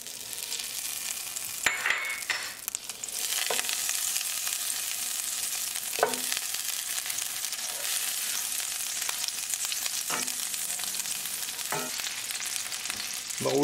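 Butter and olive oil sizzle in a pan over medium gas, giving an even, close frying hiss with scattered light clicks and spits throughout.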